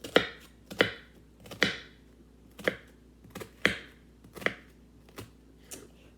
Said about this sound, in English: So I'm getting ready to chop my onion.